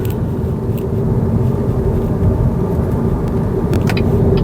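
An electric car drives over rough urban neighbourhood streets near Jalan Sungai Besi, Malaysia, giving a steady loud rolling rumble of tyres and road noise with small knocks from the uneven surface.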